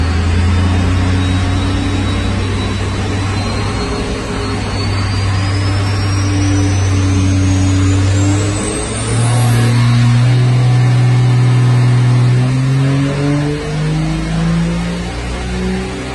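A First Gen Cummins diesel truck engine, a VE-pump build making around 500 hp, roars at wide open throttle for a long sustained run, loud and close, its pitch climbing steadily as the turbo whistle rises and peaks.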